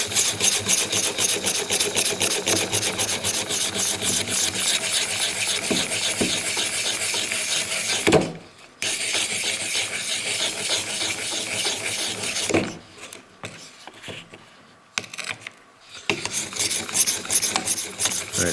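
Steady, loud rasping strokes of a knife edge being reprofiled and sharpened after serration removal, continuous grinding scrapes with brief pauses between passes, no talking.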